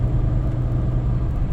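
Toyota 2000GT driving along at gentle speed, its engine a steady low rumble, close and constant without any speaking.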